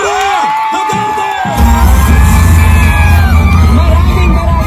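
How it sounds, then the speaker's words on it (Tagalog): A political rally crowd bursts into cheering and shouts after an announcer's voice, a dense, loud, sustained roar that carries on to the end. "Labongin ng mainit na palakpak at sigawan"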